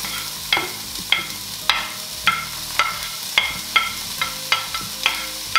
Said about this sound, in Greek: Ρίχνουμε το κρεμμύδι να τσιγαρίσουμε.